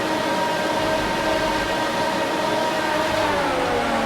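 Engine drone from F1 2019 on the grid at the start of the Russia race, a steady loud hum with sustained tones that slowly shift, no voices over it.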